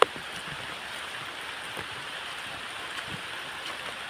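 Steady, even rain falls in a rural setting near nipa palms, making a constant close hiss with scattered faint drips and no talking.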